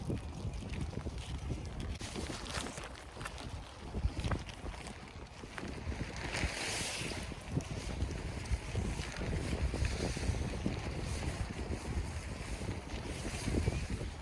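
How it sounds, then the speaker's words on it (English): Strong wind buffets a wild camp, with tarps flapping and rustling in irregular gusts, a loud, continuous rumbling roar close to the microphone and no talk. "You can see the tarps flapping about. The wind has changed direction"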